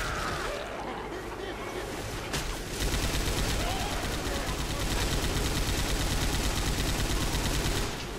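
Rapid, continuous video game gunfire from Left 4 Dead, dense and loud, blends with a noisy game soundscape and players talking over it.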